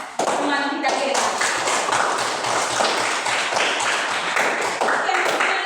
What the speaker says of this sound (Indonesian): mari kita berikan aplaus untuk teman kita Mira